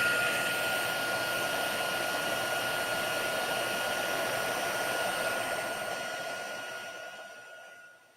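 A heat tool blows a steady, loud whirring stream of hot air over stamped paper for a birthday card craft, running continuously before tapering off as it powers down.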